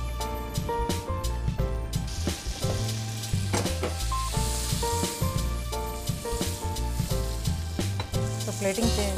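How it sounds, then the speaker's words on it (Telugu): Fruit grilling in melted butter gives a continuous, bright sizzle with crackling pops, running under a prominent backing of tuneful music throughout. "ఇప్పుడు ఇందులో కొంచెం బటర్ వేసేసుకుంటాం"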